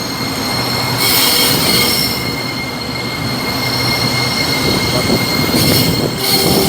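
An electric train on the Red Line rolls past close by at Rangsit station, wheels squealing in high-pitched bursts over a steady rumble of the cars.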